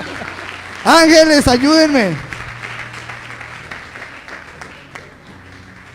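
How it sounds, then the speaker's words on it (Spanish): Congregation applause fills a church service, steady clapping running under a loud, raised voice that calls out briefly before the room settles into softer crowd noise. "A ver, démosle un aplauso a todos ellos."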